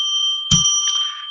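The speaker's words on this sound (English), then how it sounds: "So I'm going to ring the bell 3 times to declare sacred space." A small bell is struck once and rings on with a bright, sustained metallic tone that slowly fades, alone and close.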